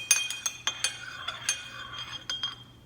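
A spoon clinks repeatedly against a dish while stirring a fish sauce and coconut aminos sauce for Thai basil chicken, with quick, irregular, close metallic taps and a few softer scrapes between them.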